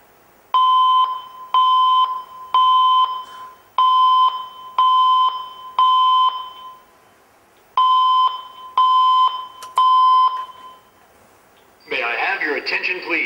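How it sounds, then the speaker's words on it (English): A loud Mircom Secutron fire alarm system beeps in a steady repeating pattern, a pause, then three more beeps, followed by a burst of noise at the end. "The fire alarm system is active."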